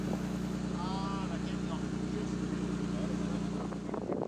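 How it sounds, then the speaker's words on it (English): A 1980s BMW M5 idles at a BMW car show, a steady low engine hum throughout, with people talking nearby and ambient crowd noise. "So you've got this 80s M5, and as you can hear, it's still purring very nicely."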